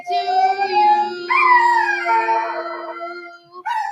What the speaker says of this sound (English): I thought the dog sang better than.